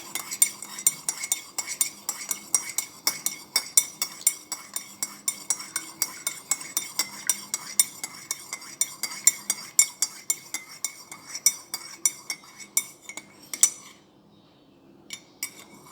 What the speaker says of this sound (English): Now you mix it nice and well.